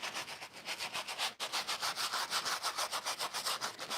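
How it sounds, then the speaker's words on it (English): A brush scrubs sneakers in quick, rhythmic back-and-forth strokes, each pass a bristly swish, close and steady with only a brief pause partway through. "if you can hear that brush"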